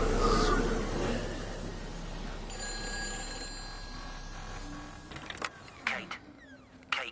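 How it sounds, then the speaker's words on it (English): A telephone rings with a steady electronic tone through a quiet room, moderately loud, followed by a few clicks and handling noises as it is picked up. "This is the phone I heard ringing."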